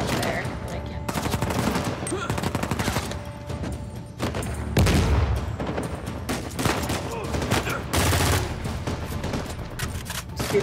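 Gunfight in Uncharted 4: A Thief's End: rapid automatic bursts and single shots crackle in clusters, with a few heavier booming hits, all mixed under a game soundtrack and a player talking.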